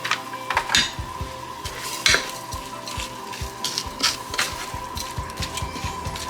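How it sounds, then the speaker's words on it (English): Meat frying in a pan with a packet of onion soup mix stirred in: steady close sizzle with repeated scraping and clinks of a utensil against the pan, no talking. "I'm just going to add in a package of onion soup mix and let the meat finish cooking."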